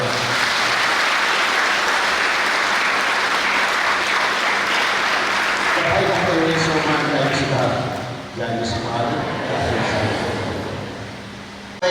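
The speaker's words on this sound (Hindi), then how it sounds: "तो एक खुशी के अवसर में हमारे मन ताली देंगे" A Catholic congregation applauds loudly at a diocesan celebration for a new vicar general in Rourkela, sustained clapping that gives way midway to a voice speaking over the thinning applause.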